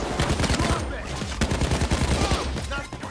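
Heavy automatic gunfire in the video game Payday 2, rapid overlapping shots rattling loudly and continuously for a few seconds, with a voice faintly mixed in.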